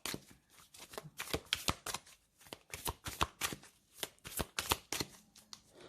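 A deck of Osho Zen tarot cards is shuffled up close in quick, rhythmic bursts of soft riffling and slapping, quiet and with no talk.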